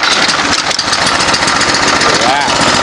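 A snowblower's small engine cold starts and runs loud and close, a steady mid-pitched chugging drone for the whole stretch, with a voice partly beneath it.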